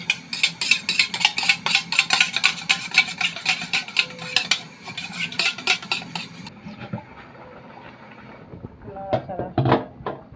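Sour yogurt whisked in a bowl for a roast dish, a rapid run of close, bright metallic taps against the bowl that stops midway, followed by a few scattered clinks and knocks.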